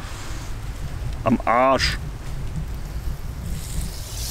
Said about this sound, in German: Da ist er wieder, der Wind!